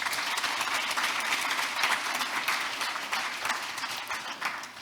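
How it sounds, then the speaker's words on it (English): An audience at an international central bank conference breaks into dense, sustained applause, a steady wash of many hands clapping throughout, fading slightly near the end. "please give him a warm round of applause"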